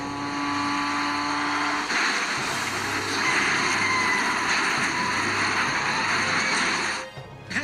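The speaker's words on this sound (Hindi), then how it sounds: "इंग्लैंड में बैथ के पास आयोजित केटरहैम चैंपियनशिप रेस।" A Caterham race car at a championship race near Bath, England, about 500 kg, its engine droning loud and steady for several seconds before a brief rough break near the end, with no voices.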